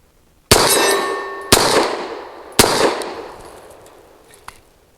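Three loud, sharp shots ring out from a Fusion Firearms Ermox XP Pro pistol, spaced about a second apart, each with a ringing decay, followed by a faint metallic clink.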